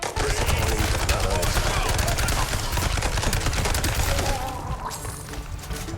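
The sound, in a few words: SMG gunfire in Mouse: P.I. For Hire video game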